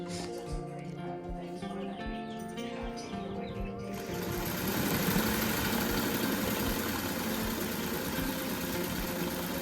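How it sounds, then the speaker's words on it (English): A sewing machine stitches down the edge of a colorful table runner, a steady motor whir that grows louder and denser midway, with faint bird chirps in the background. "I'm gonna sew down that edge"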